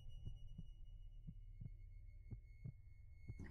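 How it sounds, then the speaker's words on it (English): Heartbeat sound effect in a tabletop horror role-playing game, steady low thumps repeating about every half second to second, alone over a constant low hum. "You can hear a heartbeat."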